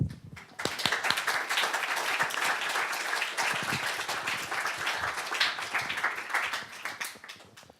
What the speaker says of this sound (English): we can clap while he gets his mic on